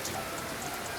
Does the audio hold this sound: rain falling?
yes